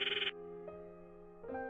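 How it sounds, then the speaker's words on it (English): A ringing tone for a phone call in the visual novel Steins;Gate sounds as short, bright electronic trills, a rapid burst followed by a gap and then a further ring, with a steady musical drone underneath. "no matter how many times I call, I'm met with the dial tone"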